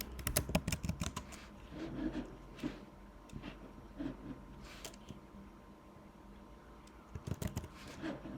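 Password being typed on a computer keyboard during an online sign-in, heard as irregular bursts of close, crisp key clicks with short pauses between groups of presses.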